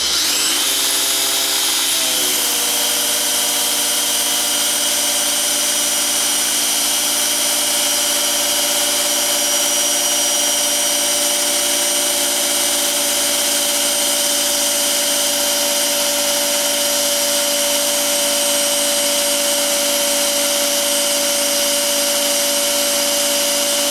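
A power drill revs up and then runs at a constant high whine for a long stretch, loud and close with a steady motor hum and no speech.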